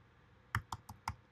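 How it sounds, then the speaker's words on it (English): Four quick, crisp keystrokes on a computer keyboard, close and evenly spaced, over a quiet room hum with no talking. "So I need to connect to Photon cluster. So I'm typing"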